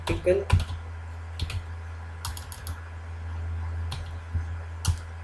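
Code being typed on a computer keyboard, with sparse clusters of quick key clicks separated by pauses over a low steady hum, near and fairly soft.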